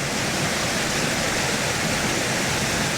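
Creek water flows steadily near waterfalls, a dense and unbroken rushing roar that sounds close, with no voices.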